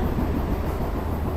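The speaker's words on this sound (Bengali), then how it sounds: "এই নৈহাটি জংশন স্টেশন প্ল্যাটফর্ম ছেড়ে দিল আমাদের ট্রেন।" A Bengal local train runs along the tracks just after pulling out of Naihati Junction, a steady, dense rumble and rattle heard from inside the carriage, continuous and moderately loud with no talk.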